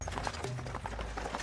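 Hooves of a horse-drawn carriage built of rare agarwood clip-clop in a quick, steady rhythm, faint and slightly distant over a low rolling rumble.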